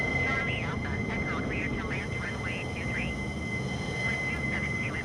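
An F-15 jet in a flight simulator game approaches to land with gear and flaps down, a steady moderate jet engine hum with a constant whine, while someone talks over it throughout.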